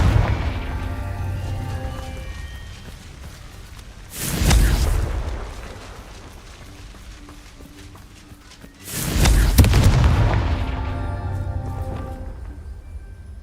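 Two loud Confringo fire-spell explosions in a Hogwarts wizarding video game. Each is a sudden booming blast with a rumbling tail, spaced about five seconds apart over soft background music.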